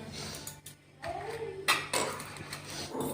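Ginger being crushed by hand for a pressure-cooker-style mutton curry paste, giving a few close, irregular knocks and scrapes of a pestle or stone with no talk.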